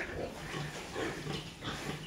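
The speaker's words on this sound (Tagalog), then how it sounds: "Tapos nandito po yung ating mga baboy na malalaki." Large farm pigs grunt and snuffle in their pen, with low, repeated grunts at a moderate distance and no talk over them.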